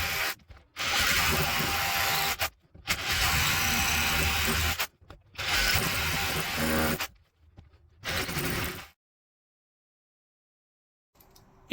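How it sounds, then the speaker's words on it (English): A power drill bores holes into a wall in four sustained bursts of whining, grinding drilling separated by short pauses, followed by a long silence and a faint sound at the very end. "we're going to work our way up through the drill bits to ensure that these holes are nice and accurate"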